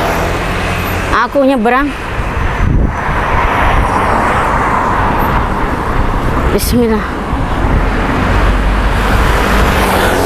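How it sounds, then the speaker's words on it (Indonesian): Busy street traffic of cars and motorbikes at a large road in Zhudong, Taiwan, a loud steady roar passing close by, with a person briefly speaking over it. "Banyak mobil sama motor."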